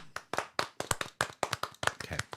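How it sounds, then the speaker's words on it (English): Quick, steady hand clapping close by, a dozen or so sharp claps at an even, brisk pace with no voices. "Can we just clap, please?"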